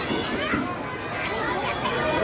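A crowded play area packed with children shouting and playing, their high voices forming a dense, continuous babble close by with no pauses.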